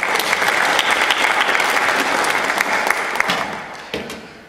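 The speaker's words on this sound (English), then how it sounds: "Let's give them a round of applause." Loud, dense audience applause for volunteers at a talk in Otley Parish Church, with many hands clapping close by, then thinning and fading over the last second.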